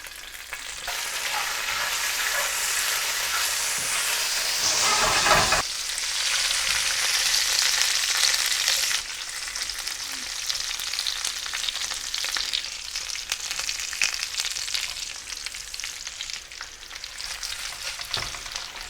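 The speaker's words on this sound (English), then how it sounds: "once they kind of sizzling, we add in fresh curry leaves" Cumin seeds and fresh curry leaves sizzle steadily in hot oil for potatoes, a loud, dense frying hiss that swells when the leaves go in and continues with occasional stirring, no talking.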